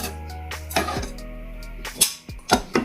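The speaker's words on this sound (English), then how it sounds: "And then stir your rice." Rice being stirred in a pot with salt and a knob of butter on a home kitchen stove, giving a few scattered metallic clinks and scrapes of spoon against pot, close and fairly loud.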